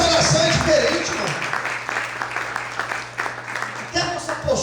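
Church congregation applauding during a sermon, a loud, sustained wash of clapping close by that carries on throughout, with voices mixed in underneath.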